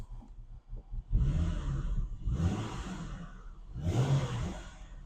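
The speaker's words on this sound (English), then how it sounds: "Let me give this guy a little gas and we'll see how that graph looks." Car engine given a little throttle, three separate rising rev surges with brief lulls between them, moderately close and alone without talk.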